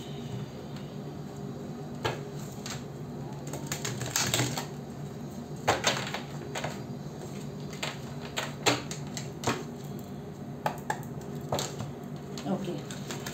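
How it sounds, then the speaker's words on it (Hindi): Tarot cards are shuffled by hand, giving irregular crisp riffles and soft slaps that come in short bursts over quiet room tone. "एक बार और शफल करूँगी"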